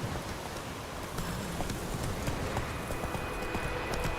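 Galloping hooves of Roach, a horse in the video game The Witcher 3, a dense continuous rapid drumming of hoofbeats at steady loudness, mixed with a rustling hiss of movement and no speech.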